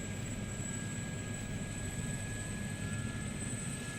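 Gazelle helicopter turbine spooling up toward flight RPM, a steady loud whine with constant high tones over a broad low rumble, continuous and unchanging throughout, no voices.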